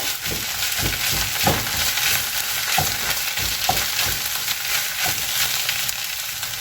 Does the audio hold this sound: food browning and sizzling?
yes